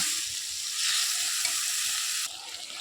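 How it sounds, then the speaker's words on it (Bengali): Drumstick stalks sauté in a pan, producing a loud, continuous close sizzle with faint stirring scrapes that drops slightly in level near the end, with no voices. "এবার ভালো করে একটু কষিয়ে নেব।"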